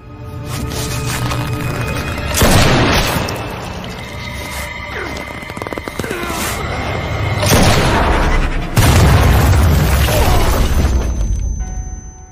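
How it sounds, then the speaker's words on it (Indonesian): Sniper rifle shots in an action film: heavy booming blasts ring out amid a dense, loud soundtrack of crashes and rumbling, with a few strong impacts standing out over the continuous noise. "si Benzema kembali berhasil 2 kali menembak tepat sasaran"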